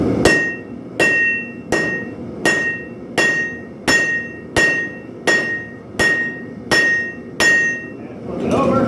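Steady, evenly spaced hammer blows ring out forging coil spring steel into a knife, about ten strikes with a bright clang and short decay, then a brief scrape.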